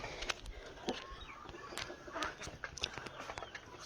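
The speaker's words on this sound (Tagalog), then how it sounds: "Ang dami niyong alagang manok." Chickens cluck repeatedly nearby, short sharp calls scattered over a low background murmur.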